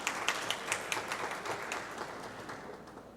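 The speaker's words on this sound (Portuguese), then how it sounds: "Vamos dar uma salva de palmas para as mulheres nessa casa" A chamber audience gives applause for the women present, a dense crowd of hands clapping steadily, moderately loud in a large room and fading slightly toward the end.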